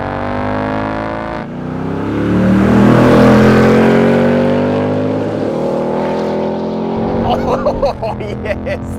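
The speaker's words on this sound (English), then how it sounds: "Big V8, manual gearbox, give me that any day of the week." Ford Mustang Mach 1 with a big V8 and manual gearbox, revving hard up through the range: a loud, rising engine roar that swells, holds, then drops away as a voice starts talking near the end.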